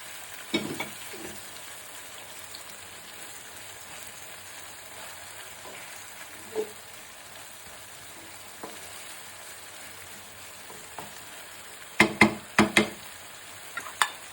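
Prawns fry in a pan for chingri malaikari with a quiet, steady sizzle, broken by occasional light utensil taps and a brief cluster of sharper clatters near the end.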